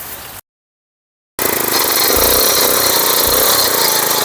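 A self-start power weeder with solid tyres runs loud and close; its engine drones steadily after a brief silence, with a rough, rattling texture throughout.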